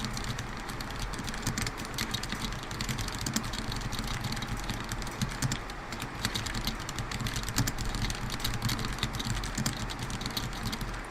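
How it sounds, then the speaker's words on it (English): Steady, continuous clatter of keys on a custom-built M65-A mechanical keyboard, typed at a fast, even pace, close and moderately loud with a constant low hum underneath. "Here's me typing."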